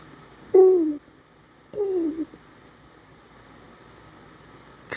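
A pigeon cooing nearby, two short throaty calls about a second apart, each sliding downward, over a quiet background.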